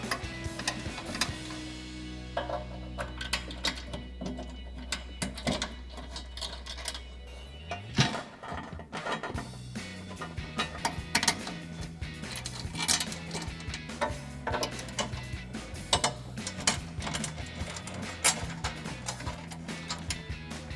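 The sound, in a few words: bolts being threaded into bumper U-clips by hand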